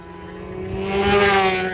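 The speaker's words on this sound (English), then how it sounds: "motorcycles fly around the course at speeds you can't believe" Racing motorcycles sweep past at speed during the 2024 Isle of Man TT races, a high engine whine building steadily louder as they approach.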